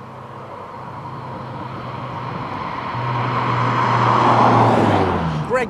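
Renault Alpine GTA Turbo's PRV engine runs steadily from inside the car, its drone building louder and slightly higher through the second half before easing off at the end.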